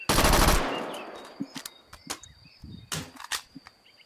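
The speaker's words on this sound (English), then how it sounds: "don't shoot at me" Gunfire in the VR shooter H3VR multiplayer: a loud opening burst of automatic fire decays into a ringing tail, followed by scattered sharp single shots and distant pops at irregular intervals.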